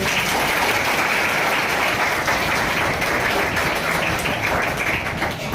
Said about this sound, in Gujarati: તાળીઓ પાડો એકવાર.